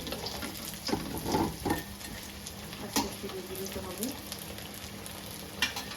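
Potato pieces fry in oil in a wok with a steady close sizzle, broken by several sharp scraping stirs and turning clatters.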